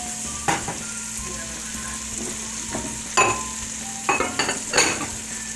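Chopped onion and celery sizzle steadily in melted butter in a pan, a constant close frying hiss broken by a few clinks and stirring scrapes.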